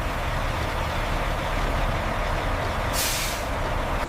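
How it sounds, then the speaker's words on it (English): A truck arriving at a sugar factory rumbles steadily with a loud engine drone, then gives a short sharp hiss of its air brakes about three seconds in. "Trucks arrive day and night, ensuring the factory's massive appetite for raw material is constantly fed."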